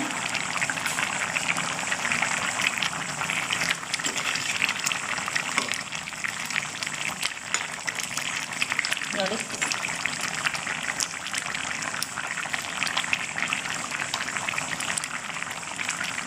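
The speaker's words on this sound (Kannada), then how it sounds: "ನೋಡಿ ಈಗ ಒಳ್ಳೆ ರೀತಿಯಲ್ಲಿ ಕುದೀತಾ ಇದೆ" Steady bubbling and gurgling of okra sambar simmering in a pot on the stove, with soft watery trickling throughout.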